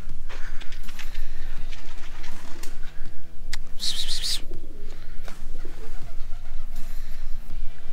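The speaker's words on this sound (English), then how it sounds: "Oh, there's another pigeon there." A pigeon coos repeatedly outdoors near a rooftop, the soft rhythmic calls sitting over steady background noise with a brief burst of higher chirping partway through.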